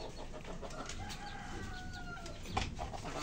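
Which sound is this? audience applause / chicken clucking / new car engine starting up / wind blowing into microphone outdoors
chicken clucking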